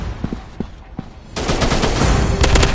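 Gunfire in the Special Forces Group 3D shooter game, a few sharp isolated shots followed by a dense, loud burst of rapid automatic fire.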